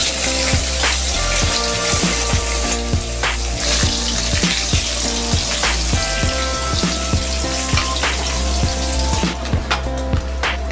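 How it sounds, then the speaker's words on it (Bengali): An egg frying in hot oil, a loud, continuous close sizzle with rapid crackling pops spattering throughout and no talk. "আমার তেল গরম হয়ে গেছে, আমি ডিমটা তেলের মধ্যে ছেড়ে দিচ্ছি।"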